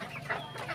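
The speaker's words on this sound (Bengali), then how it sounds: "আর ওই ঘরে ফাউমি মুরগি, এগুলারে রাখি।" Fayoumi chickens cluck softly in a farm coop, a few short, faint clucks over low background noise.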